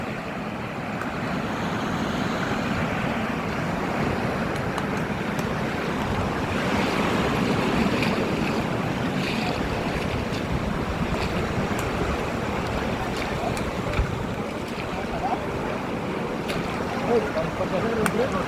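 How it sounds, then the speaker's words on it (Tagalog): Rough ocean surf with large waves around a small island, a continuous roaring wash mixed with wind buffeting the microphone, steady and loud throughout, heard from a boat with people talking over it. "Malalaki pa rin ang alon."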